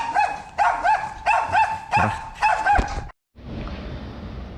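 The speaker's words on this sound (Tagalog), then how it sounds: "May aso sa harapan." A dog barks five times in quick succession, loud and close, followed by a brief silence and then steady background noise; a short spoken word is heard.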